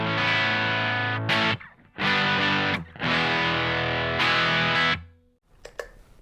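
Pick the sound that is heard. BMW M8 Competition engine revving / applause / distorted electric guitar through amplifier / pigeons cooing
distorted electric guitar through amplifier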